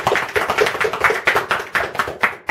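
Close, loud applause greets an honoured guest at a gathering, a small group clapping in a quick, uneven rhythm that gradually thins toward the end.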